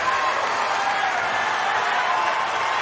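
Tennis crowd at the 2021 US Open in New York applauding Andy Murray during his fifth-set first-round match against Stefanos Tsitsipas: steady, dense clapping and crowd noise that fills the whole stretch at an even level.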